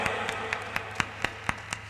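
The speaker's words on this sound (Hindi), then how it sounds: "तालियां बजाइए जोरदार" A few people clap or tap in a slow, steady rhythm at a temple consecration ceremony. There are eight separate sharp hits spaced evenly, faint over a low background hum.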